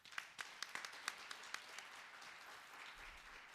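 A small audience claps for an honoree at a morning introduction event, individual claps standing out as a sparse, quiet patter that fades after a few seconds.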